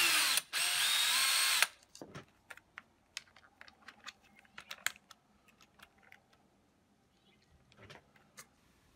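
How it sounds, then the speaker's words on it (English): Power driver whirs briefly while swapping in screws on a SimpliSafe smart lock, followed by scattered light clicks and taps of handling the hardware, close up and quiet. "I'm going to replace these screws with the ones that should have gone in there."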